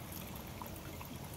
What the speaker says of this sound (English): So I'm going to do a little pour here.